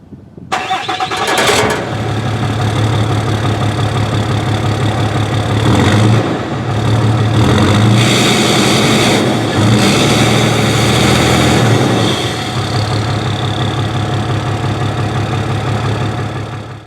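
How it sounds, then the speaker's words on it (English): A 2012 Ram 2500's 6.7-liter high-output Cummins turbo diesel engine idles steadily with a deep, low rumble after a brief starting burst, running continuously and fairly loud with no talking. "it sounds pretty good for a diesel engine."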